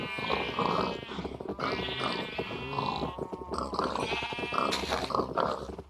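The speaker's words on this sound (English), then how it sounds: "Sorry for the loudness of the pigs." Loud, busy animal grunting and bleating from pigs in Minecraft, with overlapping repeated calls running almost continuously and close up, alongside other game sounds.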